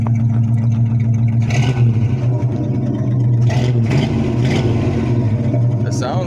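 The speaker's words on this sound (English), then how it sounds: "When he revved it up, man, it sounds healthy, listen." A car engine that has sat unused for a long time runs with a steady low rumble, rising in a few brief revs, while a person talks over it.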